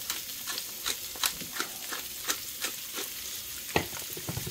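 Bok choy stir-fried with Szechuan and black peppercorns sizzles steadily in a hot pan, with repeated scraping stirs of a utensil at an irregular rhythm, close up and without talk.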